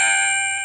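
An iPhone sent-message alert played through an LM386 audio amplifier circuit: a single short, bright electronic ding that starts loud and decays slightly.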